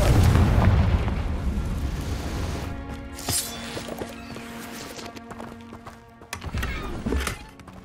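A Confringo blasting spell going off in Hogwarts Legacy, a loud burst at the start that fades into a rumbling tail, followed by several smaller pops and a second blast near the end, with no talk.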